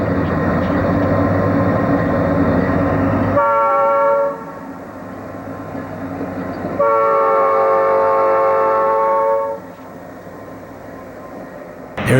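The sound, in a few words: eastbound train 266 passing with horn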